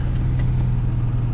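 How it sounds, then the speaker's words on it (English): Pickup truck engine on the highway running aired-down tires, a steady loud low drone with a strong constant hum, held at cruising revs without pause. "I know I stopped revving the engine for a little bit, but back up to highway mode"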